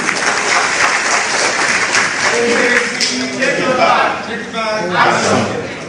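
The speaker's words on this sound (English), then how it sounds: "Please, a round of applause for him." Audience applause at a political people's assembly in Kano, with a dense, steady clapping that fills the whole stretch at close, loud level, while voices murmur underneath.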